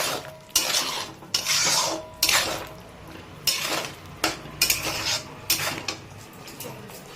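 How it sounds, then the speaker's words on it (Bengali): Small fish being mixed with salt and turmeric powder in a bowl, giving a series of irregular wet clinks and rubbing scrapes against the bowl at close range, with short pauses between strokes. "এতে দেব স্বাদ মতন লবণ, এই যে দিয়ে এটাকে ভালো করে মিক্স করে"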